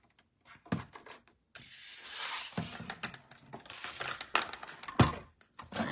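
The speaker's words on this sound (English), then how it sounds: "So we're gonna bring back our die cutting machine here." Paper is cranked through a die cutting machine inside a 3D embossing folder with a Time Worn Type pattern, giving a few loud crunching, clicking and rolling bursts with quiet gaps between them.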